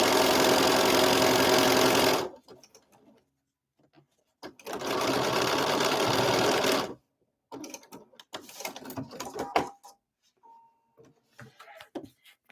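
A sewing machine stitches a seam in two steady, even runs of about two seconds each, separated by a pause, followed by scattered handling clicks and quiet movement.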